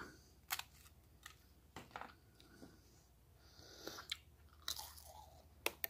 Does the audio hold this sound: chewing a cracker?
yes